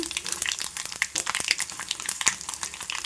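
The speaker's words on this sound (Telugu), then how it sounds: "చిట్టపట్లాడుతూ చక్కగా వేగిపోయాయి" Dried red chillies and seasoning seeds crackle and pop in about half a cup of hot oil, a busy, close sizzle full of quick sharp snaps that keeps on without a break.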